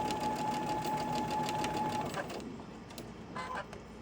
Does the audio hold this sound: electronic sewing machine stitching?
yes